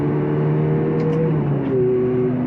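A Ferrari F430 engine revs hard while accelerating in first gear, a loud, close, sustained mechanical roar with its pitch shifting as it climbs, and no talking.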